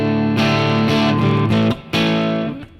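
Guitar played through a Line 6 Pod Go preset with reverb: several sustained, distorted chords ring out one after another, loud and close, with a short gap before the last one decays into reverb tail.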